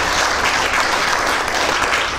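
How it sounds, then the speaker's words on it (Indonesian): An audience claps loudly and continuously throughout, a dense wash of applause from a crowd at a talk, with no break. "satu tepukan untuk kita"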